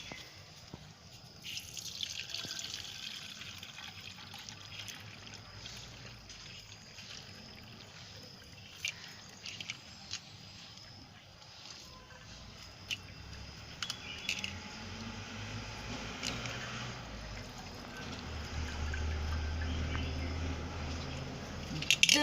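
Homemade organic shampoo liquid, made from about 30 ingredients, is poured through a filter, giving a steady, soft trickle and drip of liquid that grows a little fuller toward the end, with faint background noise throughout.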